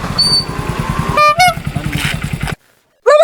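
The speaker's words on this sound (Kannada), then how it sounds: "ಬೈಕ್ ಬೈಕ್ ತಮ್ಮ ಬೈಕ್" A motorbike engine chugs with a low, steady throb while its horn gives a short burst of toots partway through, then the engine cuts out briefly before another horn-like blare near the end.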